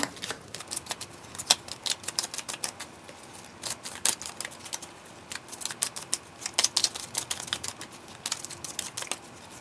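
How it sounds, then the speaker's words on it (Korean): Tarot cards are shuffled by hand in a run of quick, crisp riffles and flicking bursts that come in irregular clusters, close and fairly quiet, with no talking. "저는 이제 카드를 섞을게요"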